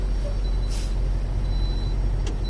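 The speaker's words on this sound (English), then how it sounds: "every time I hit the brakes here, every time I switch gears, it uses air pressure" A semi truck's air brakes give a short hissing release of air pressure, brief bursts over a steady low engine idle, close and fairly loud.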